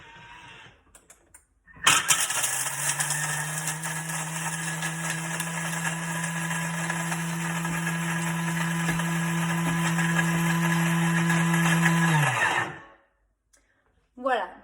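A Thermomix grinds chocolate at speed 10, a loud steady high-pitched motor whir for about ten seconds, rising slightly before stopping abruptly, with brief talk before and after.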